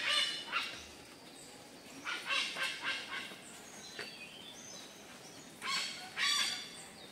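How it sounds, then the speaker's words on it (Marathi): A bird calls several times in short, bright bursts from a middle distance during the monsoon in a Konkan village near Ganpatipule, Ratnagiri, over a soft background hiss. "हा जो पक्षी आहे हा फक्त पावसाळ्यातच आपल्याला दिसतो इकडे"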